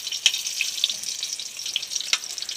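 Garlic sautéing in a pan while cooking, a steady high sizzle with scattered sharp pops and crackles and no voices.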